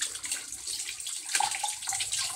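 Tap water running steadily for rinsing off foaming face wash, a continuous broadband splashing rush that stays close and fairly even throughout, with no talk over it.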